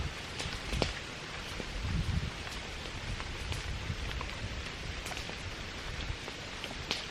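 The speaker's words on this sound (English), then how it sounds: "It's been raining on and off all morning" Rain falls on a campsite in the woods, a steady close patter of drops on surfaces with occasional sharper taps, and no one speaking.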